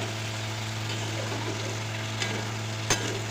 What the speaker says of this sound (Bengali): কড়াইতে ফোড়ন দিয়ে দিয়েছি বন্ধুরা একসঙ্গে গরম মশলা গরম মশলা সব দিয়েছি